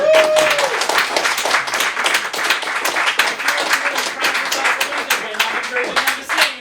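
An audience at a live comedy show claps and cheers continuously, a steady patter of many hands with some voices mixed in throughout.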